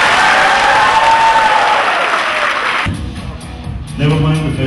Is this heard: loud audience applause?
yes